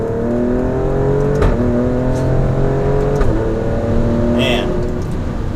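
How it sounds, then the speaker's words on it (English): A 2018 Alfa Romeo Stelvio Quadrifoglio SUV accelerates up a highway on-ramp in fourth gear, its engine note climbing steadily through rising revs with brief dips at shifts, heard from inside the cabin with a voice speaking over it. "we will do just a highway on-ramp to see what it's like getting up onto highway speeds like that."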